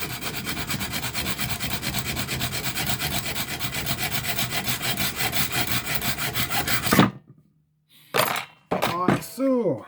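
Steady rasping saw or file work on a homemade brake caliper hanger, continuous and close for about seven seconds, then stopping abruptly, followed by a few short clunks and scrapes as the trimmed piece is handled.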